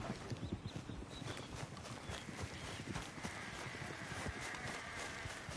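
Horse hooves clip-clopping in a PS4 video game, a quick steady trotting rhythm set against a constant bed of game ambience, with no talk.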